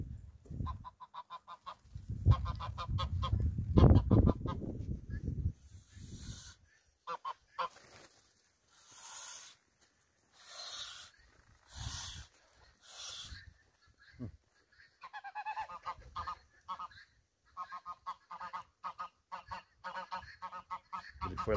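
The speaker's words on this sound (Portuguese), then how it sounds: "Olha os gansos ali, ó." Geese on a rural farm honking in loud, close bursts, with calls overlapping and then coming in spaced, repeated honks, and the flock continuing to call throughout.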